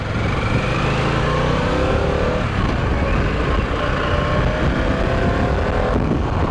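Harley-Davidson Pan America motorcycle riding on a road, a continuous loud engine drone mixed with rushing wind, shifting slightly in pitch as it travels, with no voices.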